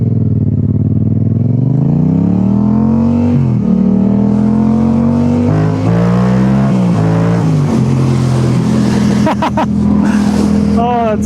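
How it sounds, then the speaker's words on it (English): Toyota 86 car passing close by, its engine note climbing in pitch then falling as it goes past, loud over the motorcycle's own engine, with a little talk toward the end. "I think that's a Toyota 86."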